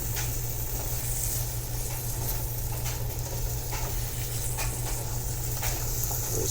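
Vegetarian taco meat in a peanut butter sauce sizzles in a pan as it cooks down, giving a steady, close crackling hiss with occasional soft stirring scrapes and no voices.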